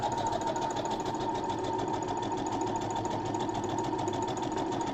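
A sewing machine stitches the neckline of a dress for an 18 inch doll, a close, steady rapid whirring and ticking that runs unbroken for five seconds.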